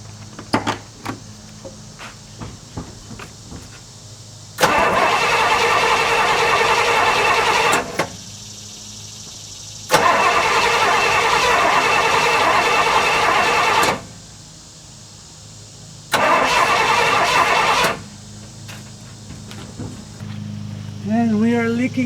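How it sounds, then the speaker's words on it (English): A 1968 Pontiac LeMans gets several starting attempts, with three long bursts of loud, continuous starter grinding separated by quieter pauses and brief voices nearby. "gonna give it a few starts, see what happens"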